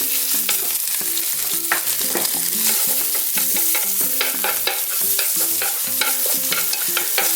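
Seasoned bracken fern being stir-fried in a pan, with steady, rapid spatula scrapes and clicks over a soft sizzle. Melodic background music plays throughout.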